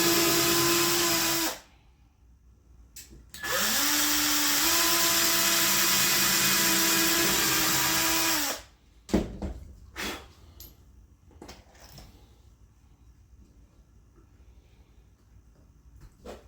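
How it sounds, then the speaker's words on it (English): A power drill bores into scrap wood in two loud, steady whining bursts, a short one and then a longer one, with quiet clattering and handling knocks afterward. "Now, I'm going to go ahead and drill the next bit"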